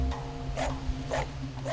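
Several dogs barking at a hidden hut fenced in deep on Gwanaksan mountain: a few rough barks, at a moderate distance over steady outdoor background noise.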